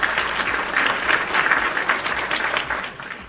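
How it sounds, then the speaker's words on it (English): A studio audience claps at a wrestling podcast show, a dense steady round of applause holding for about three seconds before tapering slightly at the end. "Round of applause for you guys."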